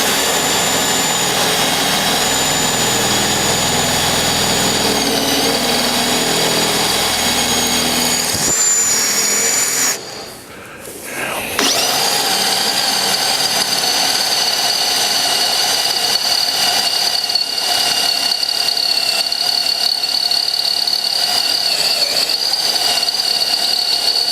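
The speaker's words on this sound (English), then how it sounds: "a 13 millimeter drill in 10 millimeter steel" A steady, loud whine of a Fein ASCM 18 QSW cordless drill boring a 13 mm bit into 10 mm steel, briefly easing off midway before grinding on at full power.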